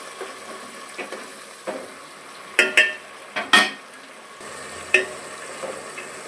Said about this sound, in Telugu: ఇప్పుడు టమాటాలు వేసుకోవాలి. ఇవి రెండు బాగా వేయించుకోవాలి.